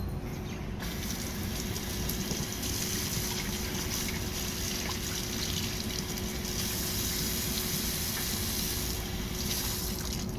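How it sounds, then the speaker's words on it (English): Running water rinses lab equipment during a peptide synthesis demonstration, a steady, constant hiss of flowing water with a background hum and no pauses. "Now again I will rinse it with water."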